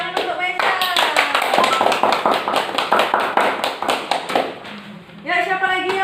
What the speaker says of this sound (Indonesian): Ya, tepuk tangan untuk Meisha.